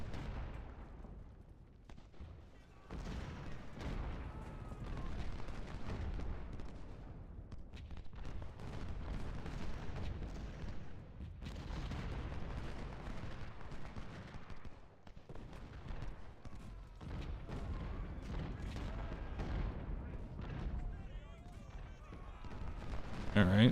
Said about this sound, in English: The enemy definitely has some artillery pieces up here.